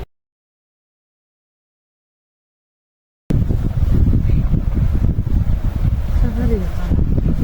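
Strong, steady wind gusts roar across a mountain trail on Mount Merbabu during a storm, a loud continuous buffeting rush that starts abruptly after a few seconds of silence.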